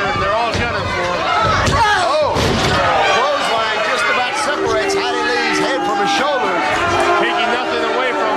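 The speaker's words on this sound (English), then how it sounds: "There's a great suplex by the champion." A wrestler is slammed onto the mat by a suplex in a women's pro wrestling match. Heavy thuds ring out amid a noisy, cheering crowd and excited commentary.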